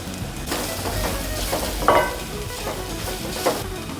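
Crushed coconut, garlic, green chili and turmeric stir-fried in a pan for a Kerala drumstick thoran, giving a steady close sizzle with scraping stirs and a couple of sharper spatula clinks.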